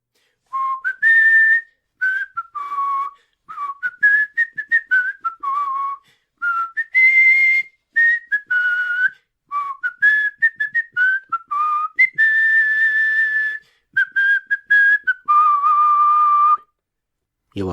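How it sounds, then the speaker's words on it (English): A person whistles the Spider-Man theme song solo, a clear, close melody of short phrased notes and sustained tones with brief pauses between phrases, no other sounds behind it. "I can't sing it, but I can whistle it."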